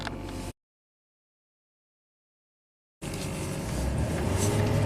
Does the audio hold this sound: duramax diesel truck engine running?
yes